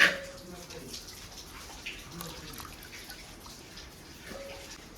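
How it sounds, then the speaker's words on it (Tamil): Cauliflower florets being swished and rinsed by hand in a bowl of water in a home kitchen, giving soft intermittent splashes and drips, fairly quiet and close, with light background noise. "நாங்கள் தண்ணியில் போட்டு காலிஃப்ளவரை நல்லா ஒரு 2 அலசு அலசிக்கலாம்"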